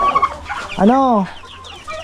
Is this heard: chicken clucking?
yes